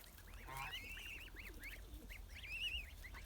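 Twenty-day-old Linda goslings honking softly and repeatedly, a string of short rising calls and peeps close by, with no talking.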